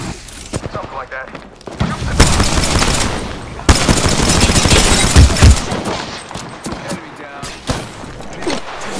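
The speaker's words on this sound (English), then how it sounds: "Gun fire. And they hit me." Gunfire in a video game: loud bursts of automatic fire and rapid shots crackle through the whole stretch, dense and close, with heavier volleys after the first two seconds.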